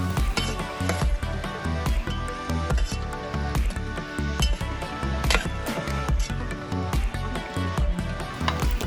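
Squid keema masala simmering in a pan, Agri-style, with a steady close sizzle and soft bubbling throughout, plus occasional light clinks of a utensil.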